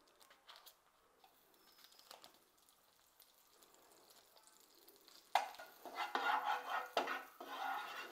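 Butter hitting a hot pan, quiet clinks and stirring at first, then a sudden loud sizzle that swells and crackles steadily for the last few seconds.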